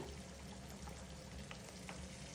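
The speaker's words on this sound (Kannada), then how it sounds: "ಸ್ವಲ್ಪ ಈರುಳ್ಳಿ ಹಾಕಿಬಿಟ್ಟು ಚೆನ್ನಾಗಿ ಫ್ರೈ ಮಾಡ್ತೀನಿ" Onions, green chillies and curry leaves fry in hot oil for a potato palya, giving a steady, dense crackling sizzle that holds evenly throughout with no voices.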